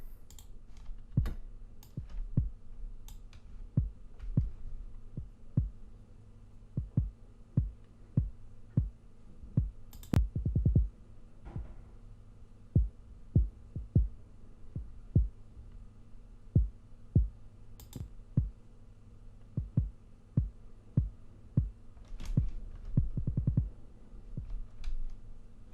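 A soloed kick drum processed with iZotope Neutron 3 thumps in a fairly steady series of short, punchy hits, with occasional brief pauses and a denser cluster near the middle.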